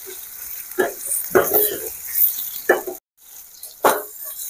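Tomato pieces fry in a pan for stuffed ivy gourd curry, with soft sizzling and a few distinct scraping stirs spaced apart, fairly close and quiet, briefly cutting out near the middle.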